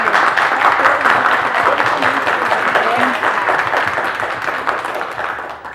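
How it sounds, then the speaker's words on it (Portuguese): Audience applause for the participants of a conversation circle on immigration and family memories in Bom Jardim, a dense, steady wash of clapping that carries on for several seconds and slowly tapers off. "Eu gostaria até de pedir uma salva de palmas para eles."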